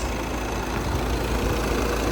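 A 2.0 TDI diesel engine of a Volkswagen Passat B7 Alltrack idles with a steady, low rumble at close range, even and unbroken with no voices.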